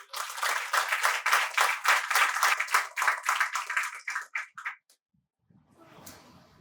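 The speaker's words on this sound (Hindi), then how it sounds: "जोरदार ताली आपकी" Audience applause at a Wednesday meditation gathering, a dense burst of many hands clapping that swells, then thins into scattered claps and stops after about five seconds, leaving faint room noise.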